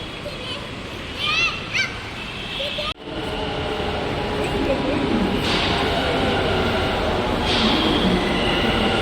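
A metro train rumbles steadily with a continuous broadband roar, a sharp clunk near the start, and faint voices and brief squeals over the rolling noise.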